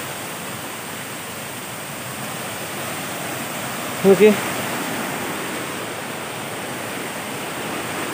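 Chothikayam waterfall at Kadanadu in Kottayam roars as a steady, even rush of falling water, with one brief spoken word in the middle.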